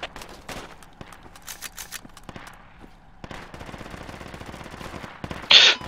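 Enemy automatic rifle fire in the game Project Reality crackles in repeated short bursts with scattered single shots, moderately loud, ending in a brief louder burst.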